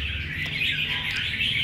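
An oriental magpie-robin, a mid-sized competition songbird, sings in a steady, bright, continuous warble, close and fairly loud over a low background hum.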